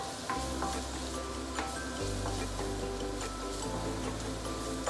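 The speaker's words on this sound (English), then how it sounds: "And continue slowly sauteing them." Curry powder sautéing slowly in oil in a pan over low to medium heat, a steady soft sizzle with faint crackles, close and continuous with no talking.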